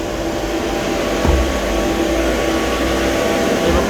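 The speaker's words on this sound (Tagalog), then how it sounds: "The evaporator fan is working," A refrigeration unit's evaporator fan runs steadily with a constant broadband whir and low hum, close and continuous, with a faint thump partway through and no talking.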